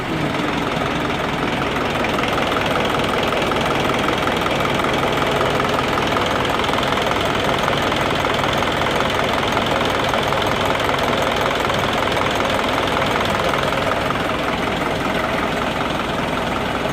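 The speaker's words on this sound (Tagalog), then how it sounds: "Lakas ng water pump oh." Isuzu 4HG1 diesel engine running with its water pump working, a loud steady rumbling knock of the engine idling close by, unbroken throughout with no talking.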